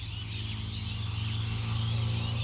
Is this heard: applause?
no